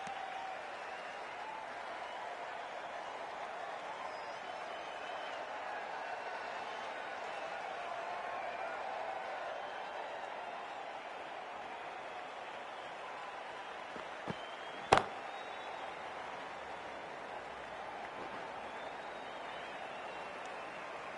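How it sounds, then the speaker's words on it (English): Steady stadium crowd applause and cheering from a PS5 cricket video game match play as a continuous wash of sound, with a single sharp knock near the end. "Number 3, please give him a round of applause."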